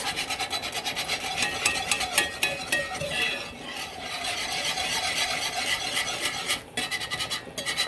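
A whisk scrapes rapidly around a pan of homemade gravy made from seasoned pork-chop pan drippings: a close, steady, rhythmic rasping that continues without pause, with no voices.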